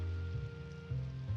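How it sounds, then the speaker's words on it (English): Rain falls on a city as a steady wash of hiss over a low, pulsing hum, faint and continuous with no voices. "Rain was falling."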